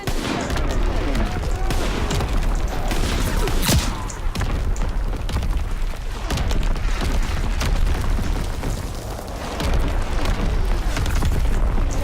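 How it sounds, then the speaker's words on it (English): Enemy artillery and gunfire in the Call of Duty WW2 video game: repeated loud booms and blasts over dense crackling fire, an unbroken barrage of battle noise with shouted voices mixed in. "Incoming enemy artillery!"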